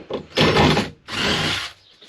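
A power drill in carpentry work gives two loud bursts of harsh whirring grind, each about half a second long, separated by a short pause.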